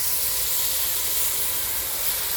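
Mushrooms sizzle loudly in a hot pan: a dense, steady hiss with no pauses.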